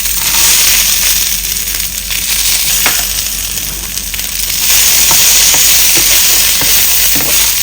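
Cumin seeds and peanuts dry-roasting in a pan with a steady loud sizzle and crackle, broken by occasional scraping stirs and small clinks of seeds and nuts shifting.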